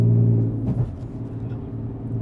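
Heard from inside, a supercharged Audi A5 Sportback with a straight-piped exhaust gives a loud, deep rumbling roar that eases off after the opening moment.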